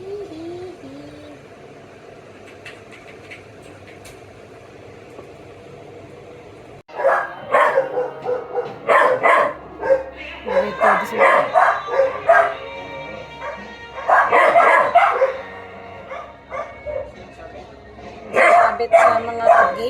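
After a quiet start, a dog barks and yips repeatedly nearby in loud bursts, with some whining; people talk in the background.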